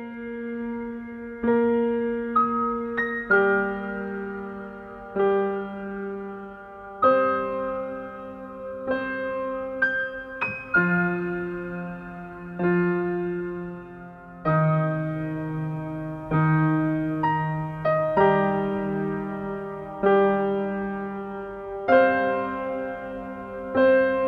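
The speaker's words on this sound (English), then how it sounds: "Putting both the rhythm and the melody together, it sounds like this." Computer-generated piano music with a randomized lead melody over a rhythm part, separate notes and chords struck one after another at a moderate tempo and ringing out clearly with no voices.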